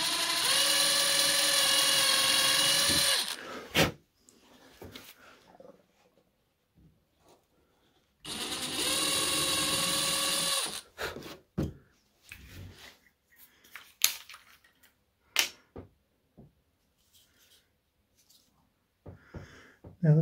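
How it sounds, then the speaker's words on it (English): Small drill bits spinning in a drill while working on aircraft cockpit glazing: two sustained high-pitched whining bursts of about three seconds each, separated by quiet handling clicks and knocks. "the bit that goes in the drill is nice and large, but the drill bits themselves are nice and small"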